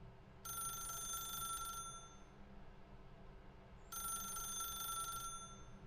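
An office telephone in Stanley Parable Ultra Deluxe rings twice. Each ring is a long, bright electronic trill separated by a pause, heard over a quiet low hum with no speech.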